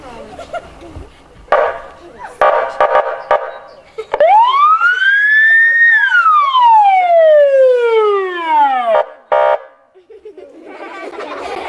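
A police car siren sounds at close range: a loud rising and falling wail that sweeps up and then drops, with shorter bursts and clatter before and after it.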